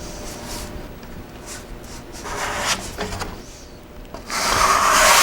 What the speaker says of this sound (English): I'm going to finish squeegeeing this thing off